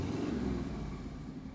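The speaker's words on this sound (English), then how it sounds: "I just wanted to hear you rev the engine" The engine of a 1940 Packard 120, an old car found in a field in Iowa, gives a steady, close, low-pitched rumble. It swells slightly and then eases off, with no voices over it.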